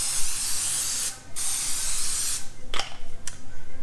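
Cooking spray is aimed at glass 9x13 baking dishes, making a loud, close, continuous aerosol hiss in two long bursts with a brief pause between, then a few short spurts.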